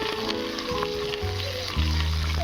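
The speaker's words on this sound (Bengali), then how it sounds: "শিমগুলোকে নুন আর হলুদ দিয়ে ভেজে নেব।" Flat beans frying with salt and turmeric for a sim bhorta give a soft, steady sizzle, with sustained tonal humming sounds running underneath and no voices.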